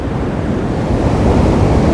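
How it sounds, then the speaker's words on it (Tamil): Water rushing and crashing against rocks at a monsoon-season waterfall surrounded by hills, a loud, steady roar of broadband noise filling the whole clip with slight swells, no voices. "இந்த கல்லுங்களில் போய் அந்த தண்ணி மோதி எப்படி கட் ஆகிக்குது பாருங்கள்."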